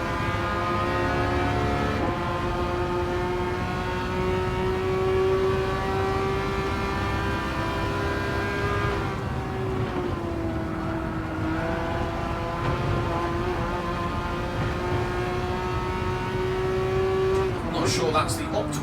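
A race car lapping in Gran Turismo 7, its engine holding a steady high drone with gear changes and brief dips, loud and continuous throughout.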